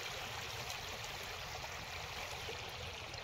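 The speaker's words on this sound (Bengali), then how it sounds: "কারণ এত স্রোত আছে বেশি" Strong river current rushes steadily in a continuous broadband wash, loud and close, with no voices over it.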